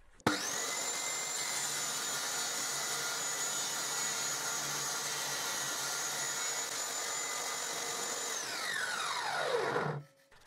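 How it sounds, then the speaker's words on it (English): A power saw cuts a wooden workpiece held in a miter sled jig for a compound angle. Its loud, steady whine runs alone for about eight seconds, then the motor winds down and stops. "I will cut the other workpiece"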